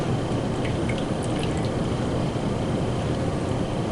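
Liquid resin part pouring steadily into a graduated measuring cup, a continuous soft trickle and splash close by, with no talk over it.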